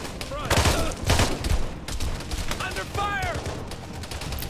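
Rapid gunfire from an Arma 3 firefight with a Halo mod, bursts of shots crackling and echoing across the scene, loudest early and then continuing more loosely while voices talk over it.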